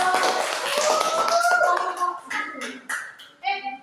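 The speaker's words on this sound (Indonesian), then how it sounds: "Beri tepuk tangan untuk" Students clapping in an elementary social studies teaching practice classroom, a burst of group clapping fading into scattered claps and taps, with voices talking over it.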